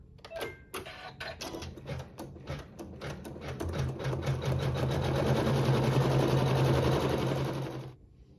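An embroidery machine sews a tack-down stitch on a quilt fabric piece, a fast rhythmic mechanical needle chatter with motor hum. It starts in short bursts, then settles into a steady, close, loud run for several seconds and stops abruptly.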